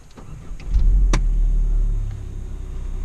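A Citroën C2 VTS engine cranks and catches to a loud low rumble that settles into a steady idle over a few seconds, heard close up from the driver's seat with no talking.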